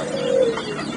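A single soft, low coo from a turtle dove kept as a caged bird, close and clear against a light background hiss.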